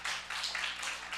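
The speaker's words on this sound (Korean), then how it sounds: "박수 한번 칩시다" Applause from a church congregation at an evening prayer-retreat service, a steady dense wash of hand claps lasting throughout, moderately close and without talk over it.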